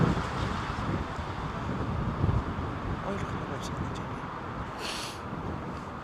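Strong wind buffets the microphone at Heathrow Airport during Storm Gerrit, a constant roaring rush with faint aircraft noise in the distance and voices talking softly underneath.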